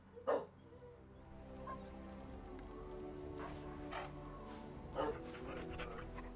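A dog in the video game Dragon Age Origins pants softly and rhythmically, with a couple of brief louder bursts, over a faint, steady game background hum.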